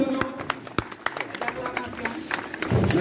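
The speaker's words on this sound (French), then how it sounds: "Applaudissez. Applaudissez." Scattered, uneven clapping from an audience at a karate dojo inauguration in Casamance, moderately faint with individual claps standing out and voices talking underneath.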